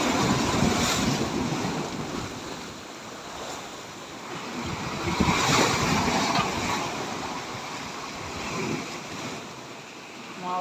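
Loud, continuous surf crashing in steady surges, with heavy wind buffeting the microphone throughout.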